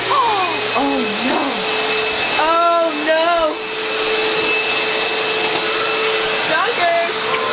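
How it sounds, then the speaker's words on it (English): A household vacuum cleaner runs loud and steady throughout, its drone overlaid with a dog's whines and yelps from a Scottie terrier close by. "Hey, you going to help vacuum?"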